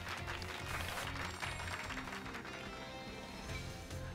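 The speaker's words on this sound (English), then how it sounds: "Give Pikachu a round of applause." Applause sound effect in Pokémon Scarlet, a steady patter of crowd clapping over game background music, moderately faint and continuous for a few seconds.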